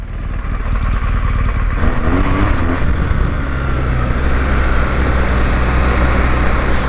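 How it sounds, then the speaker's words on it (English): A BMW R1200GS Adventure motorcycle rolling off the road onto dirt in Enduro Pro mode, its engine droning loud and close beneath heavy wind rush, with gravelly rumble building in the second half. "the bike's now in Enduro Pro mode. Let's hit the dirt, eh?"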